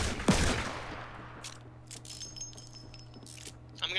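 Gunfire in the video game Fortnite: one sharp loud shot near the start, followed by quieter scattered clinks and faint shots over a low steady game hum.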